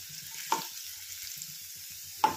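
Mustard seeds, turmeric and onion frying in oil in a pan for a North Karnataka-style brinjal palya, a low steady sizzle broken by two sharp stirring clatters.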